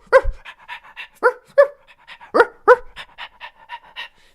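A person imitates a dog, with rapid rhythmic panting puffs broken by a few sharp bark-like yelps, close and loud with no other voice.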